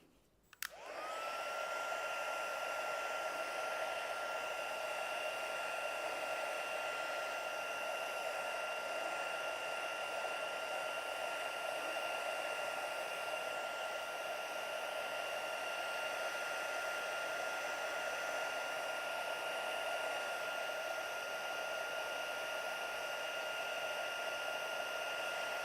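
Hair dryer blowing on coloured pencil artwork: after a brief click it starts up and holds a loud, steady whooshing hum with a constant whine, running alone without talk for the whole stretch.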